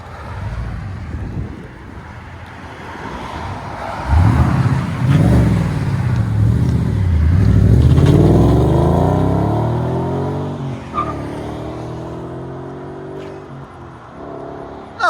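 A 2014 Ford Mustang GT 5.0L V8 with Valvetronic mufflers, valves closed, idles with a deep burble, then revs up and down in long rising and falling sweeps before settling back to idle, loud and close.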